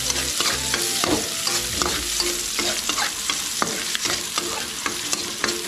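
Onions sizzle in a hot pan while a utensil stirs them in quick, frequent scrapes and clinks over a dense, continuous frying hiss, close up and loud.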